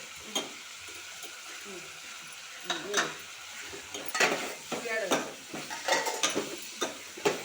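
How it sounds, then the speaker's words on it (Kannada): Brinjal pieces frying with turmeric in a pan for a North Karnataka-style palya, with a steady sizzle and repeated stirring scrapes and clinks of a spoon against the pan, close and moderately loud. "ಈ ಫ್ರೈ ಆಗ್ಬೇಕು."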